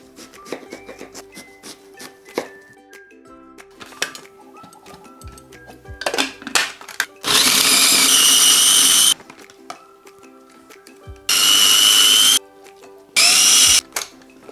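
A mini food processor chops onion in three loud whirring bursts, close and harsh, set between quieter kitchen clinks and knocks of handling the small appliance and its bowl; no speech.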